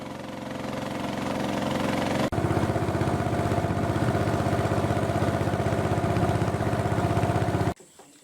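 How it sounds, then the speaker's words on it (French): Steady engine drone of a narrow motorized dugout canoe (pirogue), a continuous rough mid-pitched putter running close and loud, with a brief dip near the start before the motor cuts off abruptly at the end. "Nous embarquons sur la pirogue à moteur, étroite et inconfortable"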